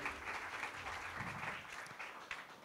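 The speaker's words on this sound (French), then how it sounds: "On peut l'applaudir même s'il n'était pas là." Audience at a French public meeting on crisis prevention claps in a faint, distant burst of applause, a soft even patter that holds steady and fades slightly at the end.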